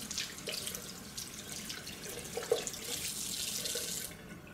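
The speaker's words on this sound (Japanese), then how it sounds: "洗い終わったら十分に水で流し" Water runs steadily from a tap while soap is rinsed off hands, a soft, continuous splash with one brief louder splatter near the middle. No voices are heard.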